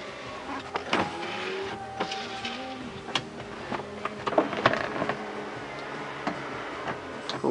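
Electric window motors of a 2004 Subaru Forester 2.0 XT turbo, whirring in short bursts with small ticks and clicks, close and fairly quiet, without talk.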